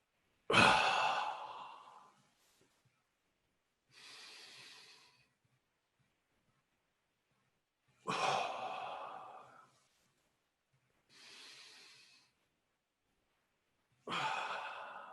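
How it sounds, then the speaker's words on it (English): Slow deep breaths during a guided meditation: long inhales and sighing exhales alternate in a steady rhythm, each lasting a second or two, close and clear against silence. "I breathe in and squeeze."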